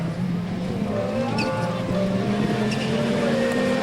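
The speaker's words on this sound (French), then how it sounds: "Allez, Hervé, la puissance moteur dans la montée là-haut, elle se voit" A rallycross car engine pulling hard up a hill climb, a steady droning tone rising slightly in pitch, heard from a distance amid open-air background noise.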